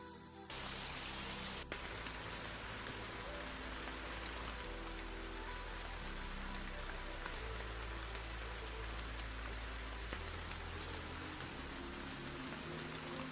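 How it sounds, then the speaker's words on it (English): Video game rain sound effect: steady rain pattering on a surface, a dense even hiss that starts abruptly and continues without pause. "Rain."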